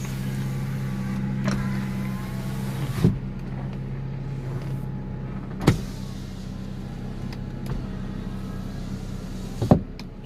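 A 2008 Honda Civic FD 1.8S power window running up and down inside the parked car, a steady motor whine broken by three firm thunks as the glass reaches its stops, with no one speaking.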